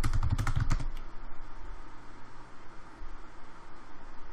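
Rapid typing on a computer keyboard, a dense burst of clicks in the first second, then fading into low background noise.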